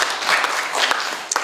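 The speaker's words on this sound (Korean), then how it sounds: "소개할 때 뜨거운 박수 부탁드립니다." Audience applause at a public forum in Korea on a Gwangju–Naju railway route through the Hyocheon district, heard as a short burst of hand clapping from a seated crowd, fairly close and steady.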